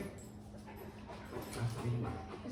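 Dog whimpering and giving short yips and barks indoors, faint to moderate, a few brief cries in a quiet room.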